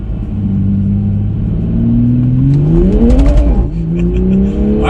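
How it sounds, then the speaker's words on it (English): Turbocharged car revving while held on the brake, the engine note climbing steadily as the turbo spools up, then easing off; loud and close with no voices. "So just to demonstrate turbo lag a little bit, when you first accelerate, there's not really any power, and then the power comes on."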